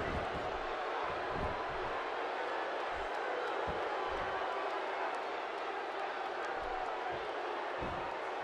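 Arena crowd in the WWE 2K16 wrestling video game roars in a steady, distant wash of cheering and murmur, with a few sharp thuds and slams breaking through at intervals.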